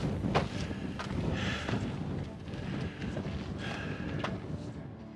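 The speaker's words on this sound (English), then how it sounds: "Wind has picked up a little." Wind buffets the microphone on the trail to Everest Base Camp, a rough low rumble with gusts rising and falling, plus a few faint clicks and footfalls on the path.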